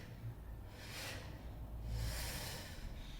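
Slow, faint exhalations of breath during a Pilates exercise, with two soft airy breaths heard close up and alone, without talk.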